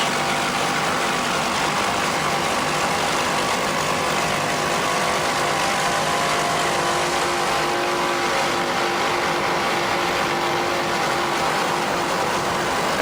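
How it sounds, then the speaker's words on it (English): Several 630-horsepower Bandit offshore racing powerboat engines roar steadily during the 1994 Suncoast Offshore Grand Prix at Sarasota, a loud, dense, sustained drone with a broad wash of wind and water noise. "Let's listen to those 630 horsepower Bandit racing engines."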